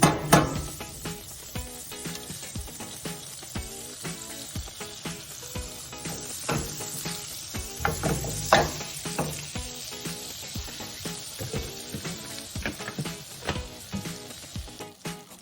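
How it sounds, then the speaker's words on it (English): Butter melting over medium heat in a large saucepan for macaroni and cheese, a continuous crackling sizzle with scattered pops and spits, close and fairly loud throughout. "in a large saucepan, melt the butter over medium heat"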